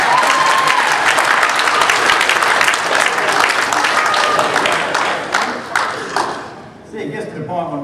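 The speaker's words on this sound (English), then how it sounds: "Go give him a clap." A church congregation applauds steadily for several seconds, dense clapping that thins out near the end, with some voices mixed in.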